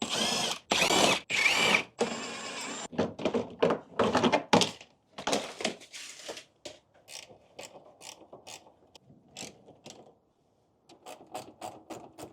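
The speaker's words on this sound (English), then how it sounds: "So I'm going to actually remove the whole bumper." Parts are removed from the bumper of a Saab 9-3, with a close series of loud mechanical clunks, ratcheting and tool whirs in bursts, then quieter scattered clicks and knocks near the end, with no talk.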